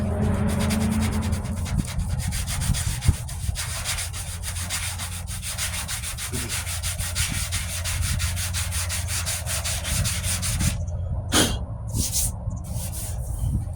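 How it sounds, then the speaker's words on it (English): Coarse 60-grit sandpaper is rubbed over body filler on the passenger-side wheel arch of a 1998 Ford Ranger. The scratchy strokes sound close and steady throughout and stop briefly near the end. "this 60 grit is a nice happy medium to get it down"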